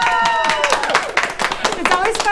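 A school cheering squad at an Arlington ISD campus claps and cheers in a lively, close burst of hand claps and shouting voices, with talk mixed in.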